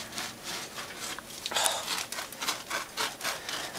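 Knife sawing through a loaf of crusty homemade vegan bread, a steady back-and-forth rasping with a sharper crackle of crust midway, close and fairly quiet without speech.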